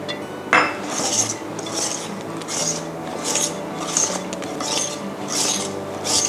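Spatula or spoon folding banana cake batter in a mixing bowl, with eight soft, evenly paced scraping strokes repeating close up, each a brief swish against the bowl, with no talking.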